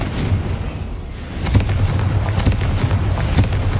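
A Confringo fire spell in Hogwarts Legacy bursts in a few sharp booming blasts over a steady low rumble of game ambience, with no talk over it.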